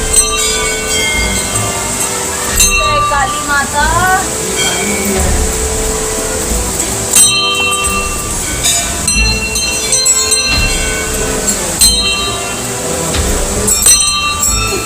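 Small bell ringing on its own inside a tiny cave shrine to Kali Mata at a temple, a run of repeated metallic strikes with ringing overtones over a busy, noisy background, with brief talk nearby.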